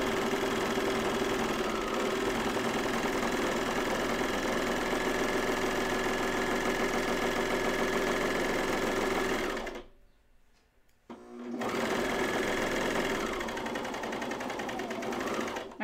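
A serger sews a seam on a Bleuet dress, running fast and steady with a busy mechanical whirr before cutting out briefly, then starting up again and stitching on.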